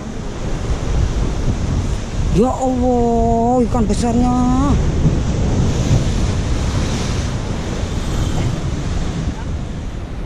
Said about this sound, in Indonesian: Hati-hati ombak besar.